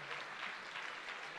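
Applause from the audience at a Christmas concert, a soft, even patter of many hands clapping that stays steady and fairly quiet through the short stretch.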